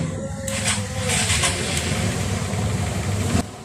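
A Honda Shine motorcycle engine cranks with an electric starter and catches, settling into a steady running drone before cutting off.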